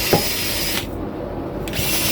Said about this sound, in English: He likes the sound of the drill.